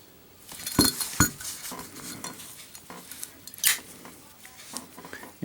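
A Zippo lighter with a brass insert gives several crisp metallic clicks and clinks as the lid snaps and the wheel strikes, spaced irregularly with quiet gaps, close up and with no voices.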